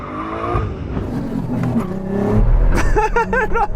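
Ferrari SF90 accelerating hard off the start, a loud close engine roar with rising harmonic pitch sweeps as it climbs through revs, with a deep rumble underneath; a voice is faintly present early on.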